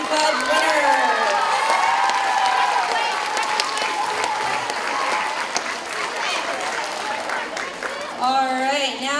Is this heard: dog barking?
no